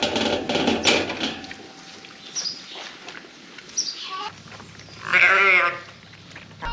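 Ewes bleating in a lambing shed, several loud close calls over a steady background murmur of the building, with a prominent bleat near the end.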